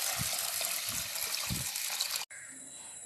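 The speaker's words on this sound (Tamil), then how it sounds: "இப்போ இதை தண்ணி ஊற்றி நான் ஒரு 4 மணி நேரம் ஊற வைக்கிறேன்." Water is poured over soaking rice and lentils with fenugreek in a vessel, a steady gushing pour with low sloshing pulses, briefly cut off before a softer trickle.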